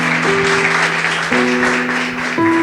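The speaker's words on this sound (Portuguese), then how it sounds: "Louve a Deus com as suas palmas," Church congregation clapping loudly in praise, a dense steady wash of applause carried over sustained organ or keyboard chords that shift pitch a few times.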